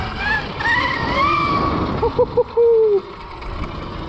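A 72V electric dirt bike motor whines with rising and falling tones, then gives a few short bursts and one longer steady pitch, heard close up beneath someone talking excitedly over it.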